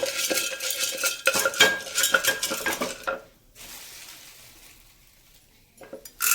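Popcorn kernels stirred around a pan with a utensil, giving busy scraping and rattling for about three seconds, then quieter soft rustling before a brief return of clatter.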